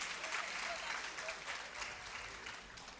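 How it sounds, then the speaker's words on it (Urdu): Audience applause welcoming a panel at a discussion session of an Urdu literary conference: a steady, dense wash of clapping from many hands across the whole span, with no pause. "آپ لوگوں کو اپنی تالیوں میں بھی ویلکم کرنا چاہیے ہمارے تمام پینلسٹ کو"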